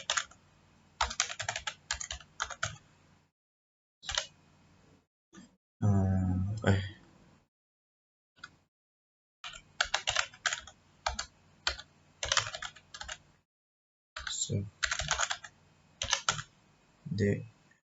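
Bursts of rapid keyboard typing on a computer running CentOS 7 while entering firewall commands for a DNS server, close and crisp, broken by short pauses; a voice talks intermittently over and between the keystrokes.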